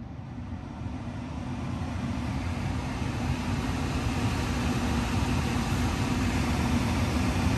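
Tesla Model Y cabin air fan running at speed 10, a steady broadband whoosh of airflow holding constant throughout, fairly loud and close with no talk.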